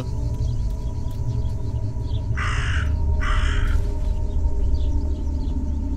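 Two harsh crow caws in quick succession ring out over a low, steady ambient drone in Martha Is Dead, with the second call following about half a second after the first.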